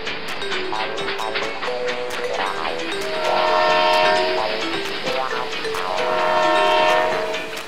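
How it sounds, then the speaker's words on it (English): A toy train with two wagons approaches with a rhythmic rolling clatter and repeated melodic horn-like toots that swell louder twice, close and prominent throughout. "A train with two wagons is coming to collect the harvest."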